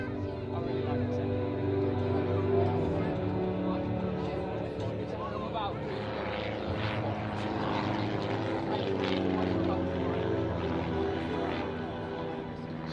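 A display aircraft flies a loop and a barrel roll at a small air show at Tatenhill. Its propeller engine drones steadily and continuously throughout, with a faint commentator talking over it.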